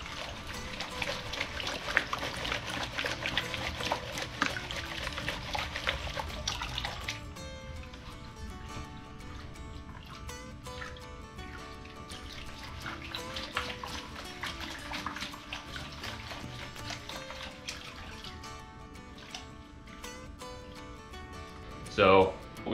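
A gold pan holding water and gravel is shaken back and forth, giving a continuous sloshing, trickling wash with gritty rattles, close and moderately loud, with some talk at times.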